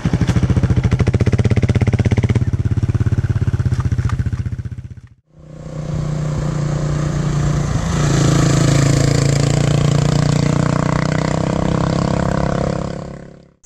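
2008 Kawasaki KLR650 single-cylinder motorcycle with 60,000 km on it, engine running close and loud with a throbbing beat, cutting out briefly near five seconds, then roaring steadily again.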